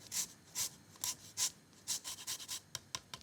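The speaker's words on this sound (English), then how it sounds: "so I'm going to zest 1 whole lime" A whole lime is zested on a grater in a kitchen, heard as a series of quick, close, quiet scraping strokes in an uneven rhythm, about a dozen in a few seconds, with no talk.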